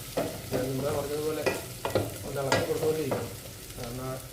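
A spoon stirs white chickpea (kabuli chana) curry in a pan, scraping in rhythmic strokes about every half second over a soft simmering sizzle, close and clear.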